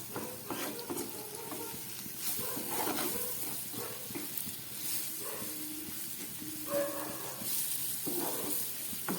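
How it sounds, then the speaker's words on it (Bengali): Taro stolons frying in a pan with cumin, coriander, chilli and turmeric on a gas stove at medium heat, giving a steady close sizzle with scraping stirs throughout. "এবার সব কিছু দিয়ে আমি আবার ভালো করে এটাকে একটু ভেজে দিচ্ছি।"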